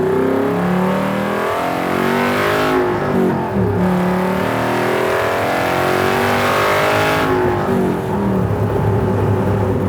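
A Superformance MkIII Cobra R with a 580 hp 5.2 Aluminator V8 drives past. Its loud engine note rises and falls as the car nears and pulls away, with a second strong pass later.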